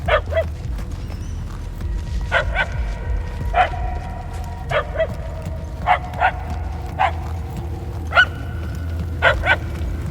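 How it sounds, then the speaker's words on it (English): Dog barking in Marvel's Guardians of the Galaxy video game, about a dozen sharp yips and barks in irregular pairs and singles over a low rumbling background, fairly close. "The barks are getting louder at least."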